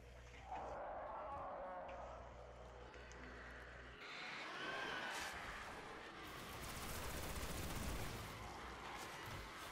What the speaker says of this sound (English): he shoots three Scorch Cannon shots